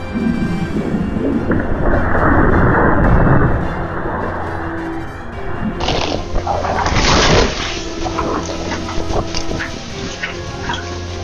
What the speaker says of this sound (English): A small storm in Oklahoma City brought torrential rain, hail, and even toppled massive trees.